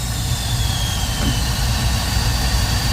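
Steady loud roar of a Trane commercial gas furnace burner firing at high fire, a deep rumbling hum with constant airy exhaust rush throughout, no voices.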